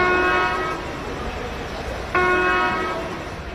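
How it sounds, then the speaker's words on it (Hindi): An Indian Railways train horn sounds two blasts, the first brief and the second longer and slightly louder, both loud and near over a steady rumbling background. "दो छोटे हॉर्न का मतलब है कि ट्रेन मेन लाइन पर खड़ी है और गार्ड सिग्नल मांग रहा है"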